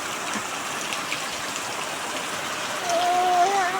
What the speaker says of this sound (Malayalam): അടാറും മഴയും ഉച്ചയായപ്പോഴേക്കും തുടങ്ങിയതാണ്